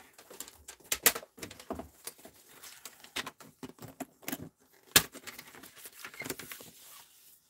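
Scissors snip and rustle through a piece of Whisper White cardstock that has been folded in half for card making, giving a close, quiet series of irregular clicks and crisp paper handling sounds.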